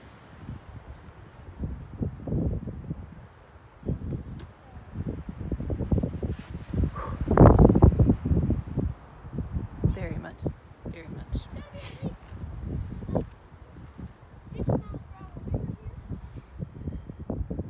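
Gusty wind at Pipe Creek Vista on the Grand Canyon buffets the microphone in uneven low rumbling bursts, heaviest in the middle, while people talk.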